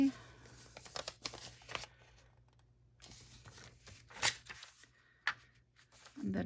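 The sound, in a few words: folding paper for a scrapbook pocket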